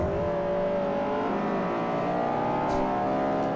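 Class D race cars lapping a track in Forza Motorsport 4, engines droning loud and steady with layered revving harmonics, one car rising in pitch as it accelerates close by.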